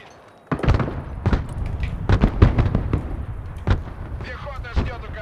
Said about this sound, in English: Artillery! Take cover!